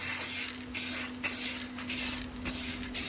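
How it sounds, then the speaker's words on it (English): An aerosol can sprays silver paint onto the front cover of a vintage Sanyo M Z30L radio cassette, giving several steady hissing bursts with short pauses between them, close up and loud over a low background hum. "I'm just going to spray this front cover silver."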